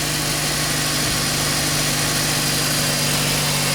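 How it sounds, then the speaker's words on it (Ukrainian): A Japanese car's engine idles close by with an even, unbroken hum and a steady low throb, no voices. "моторчик тут працює добре, гарно, рівно, чисто, навіть не мотиляється"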